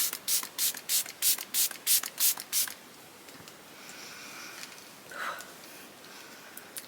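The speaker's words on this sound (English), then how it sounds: "take some of the Dalba First Spray Serum and just spray my face" A rapid series of about nine short, hissing bursts of a face serum spray close up, followed by quiet rustling and a faint soft sound.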